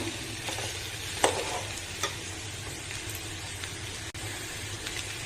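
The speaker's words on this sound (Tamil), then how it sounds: "நல்லா ஒரு நிமிஷம் மிக்ஸ் பண்ணால் போதும்" Chickpea sundal for Vinayagar Chaturthi is stirred in a pan, the spoon scraping in a few soft, uneven strokes over a faint steady sizzle, close and alone.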